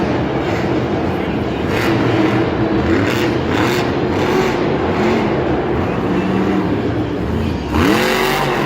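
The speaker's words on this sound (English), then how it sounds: "Oh yeah, he is airing this truck out." A monster truck revs hard through a freestyle jump at a Monster Jam arena show in Atlanta. The engine roars loudly and continuously, with one sharp rising rev near the end, over crowd noise and a commentator's voice.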